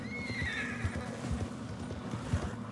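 A horse in the video game Red Dead Redemption 2 gives a wavering whinny early on, followed by soft clip-clopping hoofbeats at a moderate, fairly quiet level.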